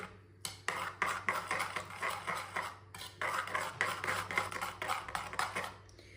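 Finely chopped, deseeded tomato is stirred into a paratha filling in a bowl, with a rapid series of close scraping and clinking spoon strokes in uneven bursts and a brief pause midway.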